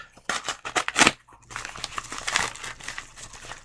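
A package being sliced open with a Hacksmith Smith Blade Lite knife, with quick close cuts and rips followed by crinkling of plastic and paper packaging.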